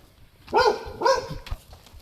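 A dog barks twice in quick succession, fairly close, followed by some faint rustling.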